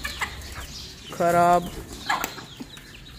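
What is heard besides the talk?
chickens clucking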